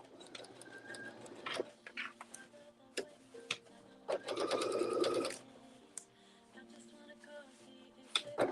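A sewing machine runs a long basting stitch through denim jeans, its needle ticking in quick bursts separated by short pauses, with one longer steady run midway; close and clear, no talking.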